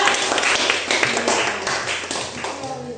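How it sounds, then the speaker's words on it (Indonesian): Students in a primary school classroom clap for a group, a burst of scattered applause from many hands that fades over a few seconds, with voices mixed in. "tepuk tangan untuk kelompok 2"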